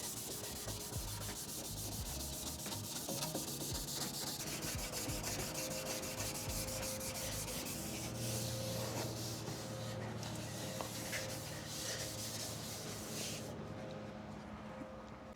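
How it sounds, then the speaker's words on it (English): A Harley-Davidson Sportster part gets scuffed with abrasive before painting, a close, continuous rough sanding rasp that carries on steadily for the whole stretch, with varying strokes and no speech. "let's make sure we got a good scuffing all the way around"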